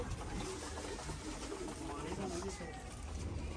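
Domestic pigeons cooing in a home loft, a steady low murmur of many birds close by with continuous dense background noise and speech mixed in.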